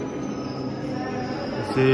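A metro train moves through a station in Turkey, a steady rumbling roll with a thin high whine, rising into louder tonal wheel squeal in the final moments; no one speaks.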